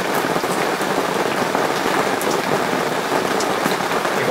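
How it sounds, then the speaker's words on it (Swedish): Heavy rain pours steadily and loudly during a Surna river salmon-fishing trip, a dense continuous hiss of drops drumming on surfaces with no pauses and no voices. "Håller i sig, det är tungt regn där."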